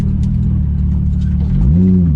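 Exhaust of a 991-generation Porsche 911 GT3 while driving, a steady low drone that rises in pitch toward the end as the engine revs up, heard from inside the car with no talk.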